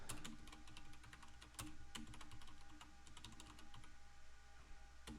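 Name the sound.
typing on a computer keyboard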